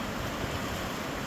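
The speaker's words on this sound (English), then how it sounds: "Nice little river flowing here." A small river flows nearby, a continuous broadband rush mixed with some wind buffeting, steady throughout with no talking.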